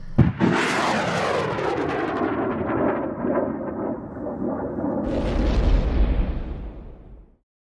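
A Rassilon rocket launcher blast in a sci-fi audio drama: a sharp explosive burst opens into a long roaring, rumbling tail that swells again with a deep boom before cutting off abruptly.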